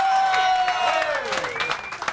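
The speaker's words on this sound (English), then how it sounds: "Round of applause," Audience applause after a live rock concert at the Cyberbarn, a steady wash of clapping and crowd noise lasting a couple of seconds, with a loud voice from a host speaking over it.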